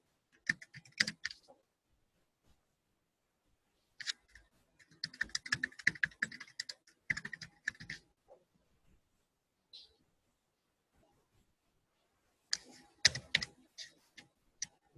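Typing on a computer keyboard comes in several short bursts of light, close key clicks separated by quiet gaps, with a faint click midway.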